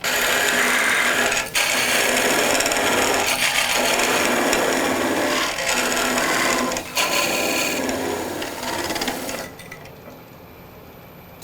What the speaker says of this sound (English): So, part it off, we're going to head to the bandsaw.